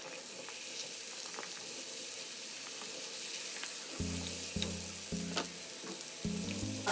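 Diced potatoes fry steadily in a hot pan, a constant crackling hiss with occasional low clinks and pops close by.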